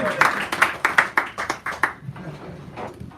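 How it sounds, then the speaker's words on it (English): Clapping from a small poetry-reading audience at Sacred Grounds Cafe in San Francisco, heard as a quick run of evenly spaced, fairly close claps that fades into quieter room noise. "Did I hear that applause right out there?"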